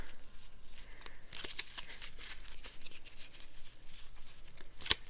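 Quiet papery riffles and soft flutters of playing cards being shuffled, in short bursts close by, with no talking.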